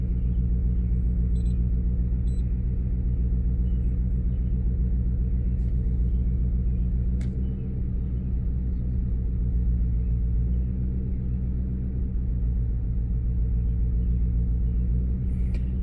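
A 2006 Lincoln Town Car engine idling with a misfire, a steady low rumbling drone with faint irregular pulsing, heard close and without talk.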